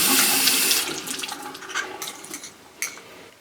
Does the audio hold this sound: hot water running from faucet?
yes